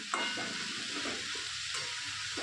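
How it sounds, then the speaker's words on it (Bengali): Red amaranth greens (laal saag) fry and hiss in a pan while being stirred, a steady close sizzle broken by scraping strokes of the spatula, with no voices over it. "এইভাবে কিছু সময় নাড়াতে হবে"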